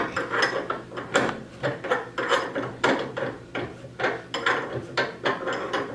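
An adjustable wrench turns during a full race traction bar install. It gives repeated metallic ratcheting clicks and scrapes in an uneven rhythm, close and moderately loud, with no talking.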